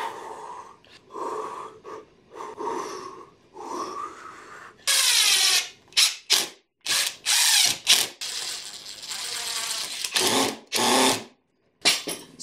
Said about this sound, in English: Now I'm just going to screw it on the bottom. I'm just using these Phillips screws.